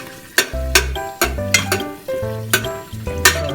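Chicken livers browning for a risotto crackle and hiss in a pan, with repeated stirring scrapes and a few clinks of a utensil against the pan, up close and with no talking.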